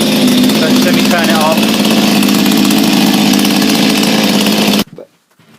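A Honda HRB 476 lawnmower engine, just after a carburetor clean, runs loud and steady at close range before cutting off abruptly near the end.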